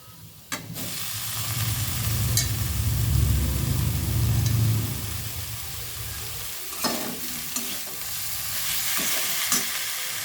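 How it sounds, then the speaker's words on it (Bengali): Spice paste stir-fried in a pan over low heat hisses steadily, with a low rumbling hum swelling in the middle and scattered sharp scrapes and knocks of the spatula near the end. "এবারে এটা ভালোভাবে আমি আঁচটা কমিয়ে কষিয়ে নেব।"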